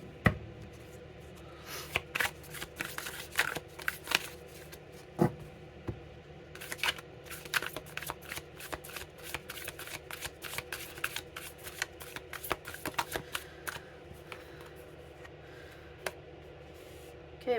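Tarot cards being shuffled by hand: a continuous run of soft riffling flicks and papery slaps, close and fairly quiet, with a faint voice murmuring now and then.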